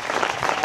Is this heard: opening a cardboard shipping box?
no